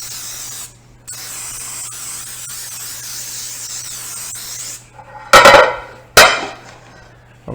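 A steady hiss of cooking spray coating a casserole pan runs for several seconds with a brief break, followed by two sharp clattering knocks of the metal pan.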